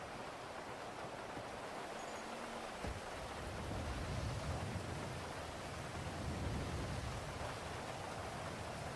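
Soft, steady rain in the game NoPixel 4.0 hisses evenly throughout, faint and diffuse, with a low rumble swelling beneath it in the second half.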